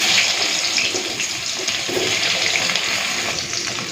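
Eggplant pieces frying in hot oil in a pan, a loud, steady, close sizzling hiss that carries on without a break.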